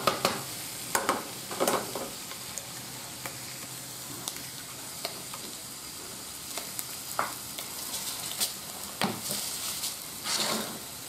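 An egg sizzles in a pan on a Sea to Summit X Series camping stove, a steady quiet frying hiss with occasional crackles and a few soft pan clinks, no voices.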